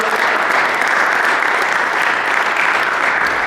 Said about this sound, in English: Give us one more round of applause, everybody.